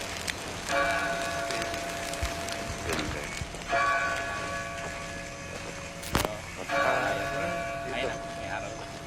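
A church bell rings out in three separate strikes, each a bright resonant tone that hangs and slowly decays, with background noise and a sharp knock between them.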